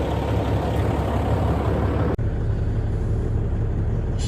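A warmed-up hay truck engine idling steadily: a low, even rumble held at moderate level throughout, broken only by one brief dropout midway.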